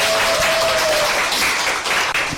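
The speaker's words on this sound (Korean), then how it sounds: "이렇게 열정적인 박수 보내주셔서" An audience at a business presentation claps enthusiastically, with dense, loud, continuous applause filling the room and staying steady throughout, and no voices above it.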